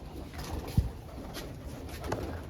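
Soft pigeon cooing in a quiet outdoor setting as pigeons feed on grain, with a brief low thump and faint background noise.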